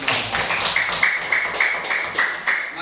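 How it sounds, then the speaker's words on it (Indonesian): Students in a classroom clap their hands together in a quick, even rhythmic pattern, close and fairly loud, with patterned claps repeating across the whole stretch. "Tepuk tangan untuk kita semua."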